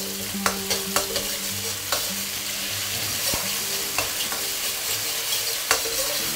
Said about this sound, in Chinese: 下入这个豆瓣酱，我们来2勺这个豆瓣酱， 小火慢慢给它燃香。